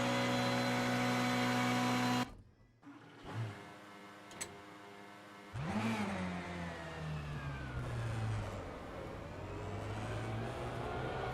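A race car engine in rFactor 2 at Spa-Francorchamps drones loudly and steadily, drops away into near silence for a few seconds, then revs back up with a rising pitch and holds a strong, sustained note.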